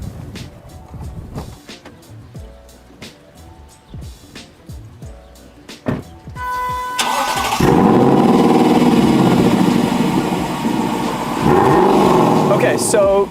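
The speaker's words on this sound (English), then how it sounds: "what you hear there is a flat plane crank, naturally aspirated V8 engine" Lexus LC with a naturally aspirated 5-liter flat-plane-crank V8: a few sharp clicks and knocks, then the engine fires up loudly and runs close by with a strong steady roar and brief revs.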